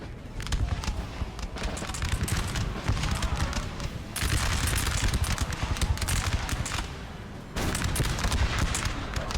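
Musket volley fire in a Napoleon: Total War battle, dense overlapping crackling shots in rolling bursts with sharp breaks between volleys, loud and continuous, with faint commentary underneath.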